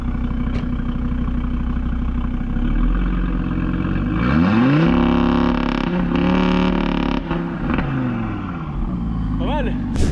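Audi RS3 Stage 2 tuned car doing a launch, engine rising and revving hard through gear changes, loud and close, with people talking over it.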